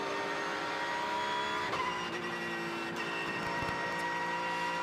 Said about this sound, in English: The unmistakable whine of a straight-cut Porsche gearbox.